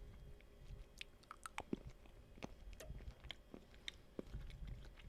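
Quiet, close chewing of Chanukkah milk chocolate, with soft irregular crunches and mouth sounds against a faint background hiss.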